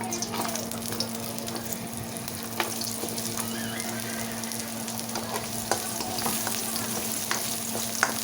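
Carrots fry in a pan with a steady, moderate sizzle, broken by occasional stirring clicks and scrapes and a faint watery trickle, nearby and with no talking.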